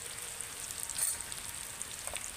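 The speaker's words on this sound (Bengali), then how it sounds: "এবার আমি মশলাটাকে খুব ভালো করে কষিয়ে নেব" Spice masala with Kashmiri chili powder and garam masala fries in a pan for a Bengali fish curry, a soft, steady sizzle with light crackle, faint and continuous with no voices.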